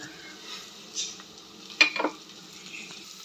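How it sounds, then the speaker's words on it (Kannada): Onions frying in a pan for plain kuska, a steady soft sizzle with a few scraping stirs of a utensil and a brief clatter near the end, close and moderately quiet. "ಆನಿಯನ್ಸ್ ಸ್ವಲ್ಪ ಫ್ರೈ ಆಗಿದೆ."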